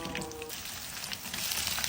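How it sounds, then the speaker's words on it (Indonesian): Spicy Kenzler chicken nuggets fry in hot oil, giving a fairly quiet, even, continuous crackling sizzle with no talking. "kerjaan kita selanjutnya adalah goreng si nugget spicy Kenzler ini"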